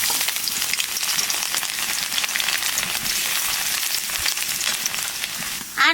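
Chopped ginger and garlic sizzle and crackle in hot mustard oil with dried red chillies, a dense, steady, close frying hiss that runs throughout with no talking.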